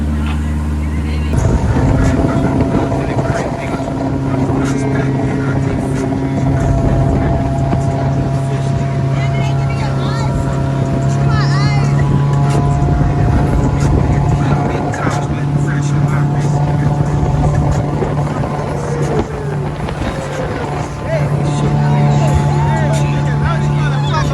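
A motorboat engine drones loudly and steadily on the water while people talk and shout over the roar.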